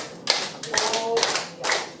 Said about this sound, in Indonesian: tepuk aja.